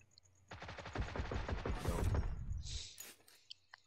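Automatic gunfire in the battle royale game PUBG during a team deathmatch: a rapid, loud burst of shots lasting about two seconds, then a short sharp electronic tone and a couple of faint clicks.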